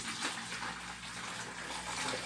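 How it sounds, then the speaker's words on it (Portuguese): Warm water pours steadily into a bucket as a continuous, even gushing and splashing, heard close with no voices. "É importante que vocês coloquem 1 litro de água morna"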